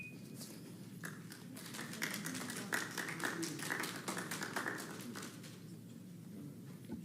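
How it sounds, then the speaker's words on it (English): An audience at a Suffolk school board meeting breaks into faint, scattered applause that swells briefly in the middle and then thins out, heard from a distance. "please hold your applause"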